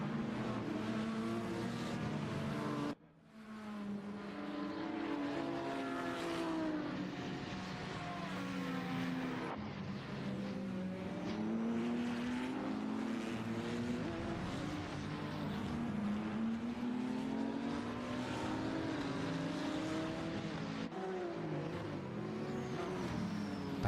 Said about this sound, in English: Patrick Fuchs here just seeing all these hypercars come around here.